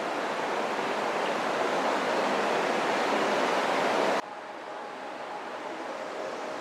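Steady, dense roar of a waterfall close by, loud and unbroken, dropping slightly in level partway through but continuing without pause, at the Falls of Leny, Callander, Scotland, recorded from the edge of a steep drop.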